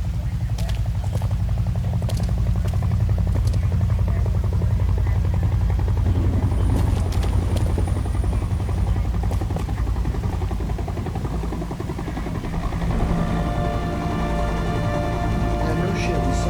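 Helicopter rotor thrum in the video game Heavy Rain, a loud steady beating drone that runs throughout beneath game sounds and voices.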